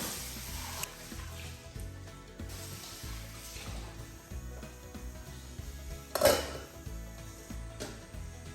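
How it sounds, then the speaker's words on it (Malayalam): Dishes, pots and pans being washed by hand in a home kitchen while food cooks, with steady close clinking and clattering of metal vessels and one sharper, louder clank near the end. "ഇനി ഈ സമയം കൊണ്ട് പാത്രങ്ങളൊക്കെ ഒന്ന് കഴുകിയെടുക്കട്ടെ കേട്ടോ."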